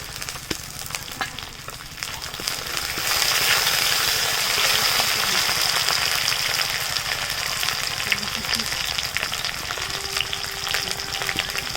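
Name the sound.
chopped tomato added to fried ginger and garlic, sizzling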